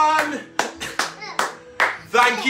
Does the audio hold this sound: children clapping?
yes